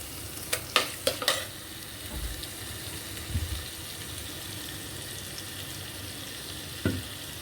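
Onion and tomato paste sautéing in a pan for hotel-style fish curry, with a low continuous sizzle and a few sharp spoon scrapes near the start and once more near the end.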